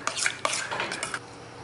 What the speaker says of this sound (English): We're just gonna stir it all up.